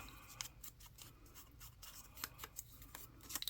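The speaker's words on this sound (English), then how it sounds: "And then we'll just cut the side off." Scissors snip repeatedly at a close distance, cutting the side off a paper craft pocket. The soft, rubbing cuts come at an uneven rhythm and are faint, with no other sound.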